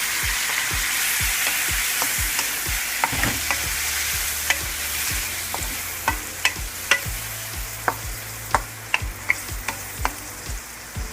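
Onions and tomatoes sauté in a pan for Ilocano-style pakbet, a steady sizzle punctuated by sharp clicks and scrapes of a utensil stirring against the pan.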